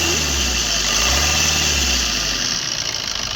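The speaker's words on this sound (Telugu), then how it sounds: "ఇంజన్ బీటింగ్ కూడా స్మూత్ ఉందండి." A 2009 Maruti Suzuki Ritz VDi diesel car engine idles nearby with a steady, even low rumble and mechanical hum, loud and alone throughout.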